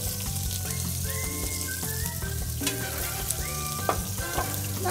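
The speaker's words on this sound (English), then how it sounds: "And you're gonna give these things a very good sear." Tuscan beef rolls searing in a hot pan, with a close, steady sizzle and spitting crackles plus occasional utensil scrapes and light clinks, continuous with no voices.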